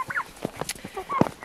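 Backyard chickens at feeding time make short, rapid clucks and squawks in quick bursts, close by with no talk.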